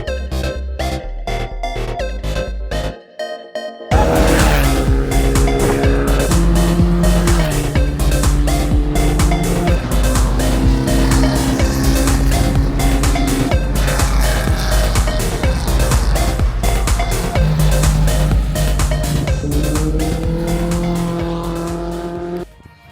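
Formula Vee race cars circuit Mondello Park during Friday testing, engines loud and continuous with shifting pitch as cars accelerate and pass, after a brief quieter opening.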